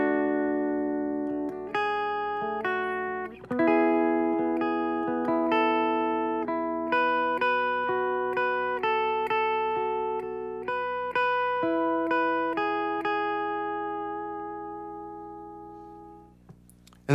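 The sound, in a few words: electric guitar melody without effects, slowed down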